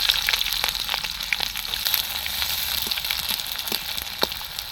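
Sliced onions frying in oil with dry chillies, cinnamon, cloves, cardamom and bay leaf for mutton curry, a soft continuous sizzle dotted with faint crackles, fairly quiet and without talk.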